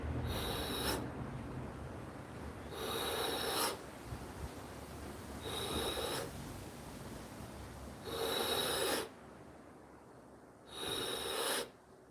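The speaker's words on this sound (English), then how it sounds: "Ten more full breaths in." Deep, full breaths during a breathing exercise in a home workout, with five long, raspy inhale or exhale pulses evenly spaced over several seconds, close and fairly quiet.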